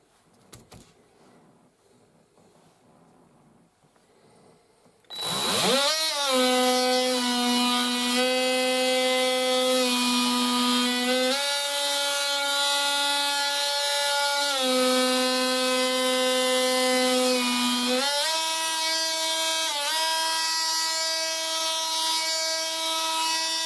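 After a quiet start, a Parkside PKGA 20-LI C2 cordless 3-in-1 tool with a sandpaper attachment whirs up to a loud, high, steady whine, its pitch dipping and recovering as it works against a surface.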